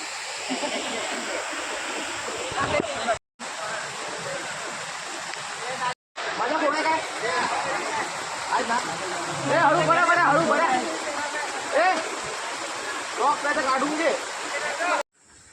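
A village river being crossed on foot gives a continuous rushing, splashing flow throughout. Voices talk over it, and the sound cuts out briefly twice.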